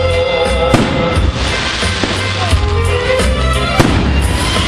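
Fireworks burst at a town day celebration in Huliaipole in 2011, with sharp distant bangs and crackles over a steady crowd and music background, several pops standing out within a few seconds.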